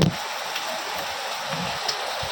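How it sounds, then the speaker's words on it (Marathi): Rain falls in a steady, even hiss of dense drops, moderately near and constant throughout, with a few faint knocks underneath and no talking. "पाऊस बघा पाऊस आला आहे"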